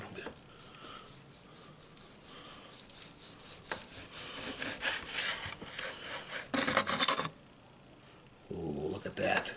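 A knife saws back and forth through a sous vide roast beef, giving a steady rasping scrape that builds through the cut. It grows louder near the end, with a brief gap before the slicing resumes.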